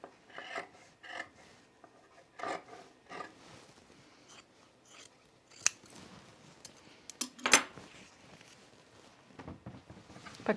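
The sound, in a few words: scissors clipping fabric seam allowance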